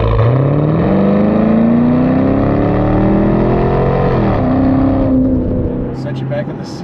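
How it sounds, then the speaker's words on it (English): A 2011 Chevrolet Camaro 2SS with a 6.2-liter V8 and muffler deletes accelerates hard through the gears, its loud, rising exhaust note climbing, dropping at a shift, then climbing again before easing off, with a voice speaking over it. "We've got a great exhaust note coming out of the back."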